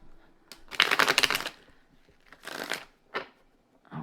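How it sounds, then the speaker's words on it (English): A deck of tarot cards is shuffled in a few quick riffling bursts, close and crisp, with short pauses between them. "I'm going to do one more big boy shuffle, and then we'll pull the cards."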